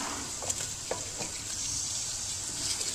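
Half a kilogram of chicken sizzles and is stirred in a pan with garlic and ginger, a steady frying hiss broken by a few scraping stirs, close and moderately loud with no talk.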